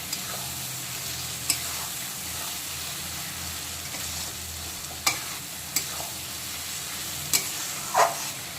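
Fried potato pieces are stirred through a spicy masala in a hot pan, with a steady sizzle and a few sharp spoon scrapes and clinks spaced across the mix, no talking.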